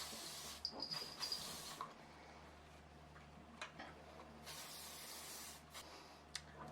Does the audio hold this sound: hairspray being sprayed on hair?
yes